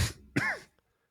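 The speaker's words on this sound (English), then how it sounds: "Dad cough." A man gives a single short cough, a close, throaty burst followed by a brief rasping clear, then silence.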